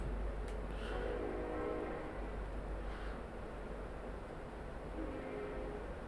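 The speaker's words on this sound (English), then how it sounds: "you can hear the train go by." A train in the 7th Saga video game rumbles past at a distance, a low steady drone with faint horn-like tones rising and fading over several seconds.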